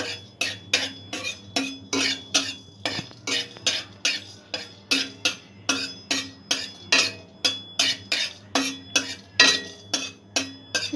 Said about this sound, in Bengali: মশলাগুলো একটু নাড়াচাড়া করে নেব।